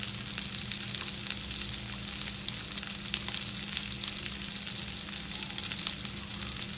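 Four green chillies frying in hot oil for paneer posto, giving a steady, even sizzle with a faint crackle, close and fairly quiet with no talking.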